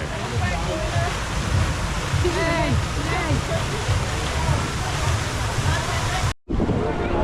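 River water at Europa Park rushes and splashes steadily, a loud continuous broadband wash with some chirping or voice-like traces in the mix, briefly cut off near the end before resuming.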